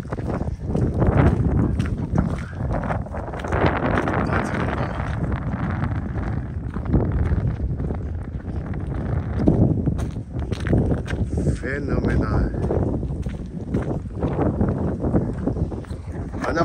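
Heavy wind buffets the microphone in loud, rumbling gusts that continue throughout, with brief voices and clattering sounds mixed in.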